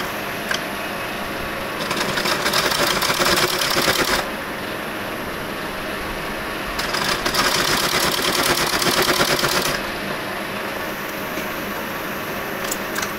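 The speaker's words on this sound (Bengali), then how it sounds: "এখান থেকে আমি সেলাই দিয়ে নেব সামান্য একটু" A sewing machine stitches scrap cloth into children's pants, a close, fast mechanical rattle that runs in two bursts separated by a lower, steady whirring hum.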